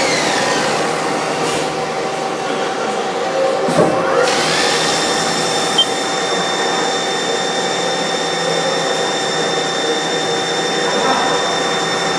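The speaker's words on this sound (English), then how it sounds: "So you're using like a center drill and chamfer?" Lathe running steadily while a center drill chamfers a metal part, a continuous machine whine with steady tonal hum throughout, plus a brief knock near the middle.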